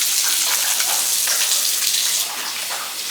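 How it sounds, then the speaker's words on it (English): A water flosser sprays in a steady, bright hiss of fine water jets, continuous and close, easing slightly toward the end, with no voices. "The water flosser is about to never see the end of me."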